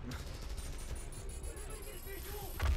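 Rapid gunfire from the video game Spider-Man: Miles Morales, a dense, steady rattle of shots with ringing tones layered over game noise, ending on a heavier thump.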